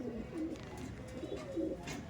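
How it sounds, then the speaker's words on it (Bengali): A male Andhra Phulshira pigeon coos in soft, low rolling calls, two or three close murmured phrases over a quiet room hum. "এই দেখ পেয়ারটা দেখেন আন্ধ্রা ফুলশিরা আছে এটা কিন্তু নর পায়রা আছে"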